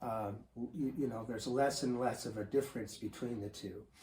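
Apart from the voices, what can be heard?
None of the usual background noises is heard.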